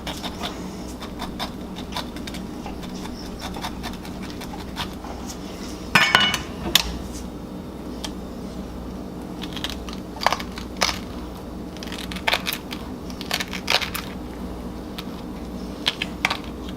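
A sharp knife slices through grilled pineapple on a board in a run of quiet, irregular taps and soft crunches, with a few louder clacks partway through.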